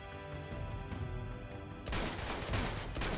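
Gunfire in the action video game Uncharted: Among Thieves, a burst of rapid shots breaking in partway through over a steady game background bed, loud and near, with no speech.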